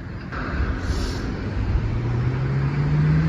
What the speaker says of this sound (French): Les voitures, il y a des voitures qui passent.